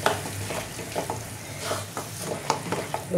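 Eggplant mash mixed with red chili powder is stirred in a pan for a Bengali begun bharta, giving soft, irregular scraping strokes over a faint sizzle, close and fairly quiet with no talking.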